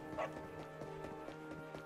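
A dog in the video game Dragon Quest XI gives one short, fairly quiet bark, followed by soft rhythmic game sounds and background music.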